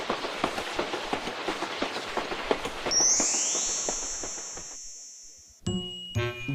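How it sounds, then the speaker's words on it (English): A blue toy-style train car clatters along the track in an even clickety-clack rhythm, then a long sliding whistle tone sounds and fades before bright chiming notes close it out. "Clickety-clack, clickety-clack, the blue train car chugs down the track."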